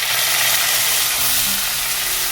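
Onion, ginger and garlic paste sautéing in a hot pan for a Mughlai dish: a loud, continuous close sizzle with steady frying hiss and faint stirring.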